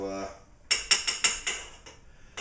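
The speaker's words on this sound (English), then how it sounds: "Just give this a stir" A spoon clinks and scrapes against a pot while stirring thickening pork green chili, Colorado style, six or seven sharp metallic knocks in an uneven rhythm, close and fairly loud.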